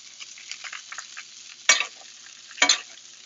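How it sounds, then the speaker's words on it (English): Butter spooned over a steak sizzling in a frying pan, a soft continuous crackle with light spoon scrapes and two sharper clatters against the pan. "then spoon it over the steak for 30 seconds. And the butter then caramelizes."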